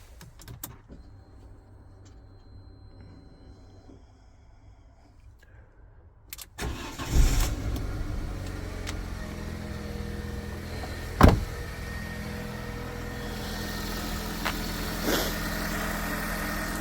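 A Fiat 500 fires up after a few seconds of quiet, the starter catching into a loud burst before the engine settles into a steady, slightly uneven idle, close by and with no talking.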